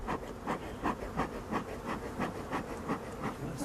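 Honeybees buzzing around a hive as a beekeeper works with a smoker, a steady droning hum that swells in regular pulses, close and continuous, with no talking.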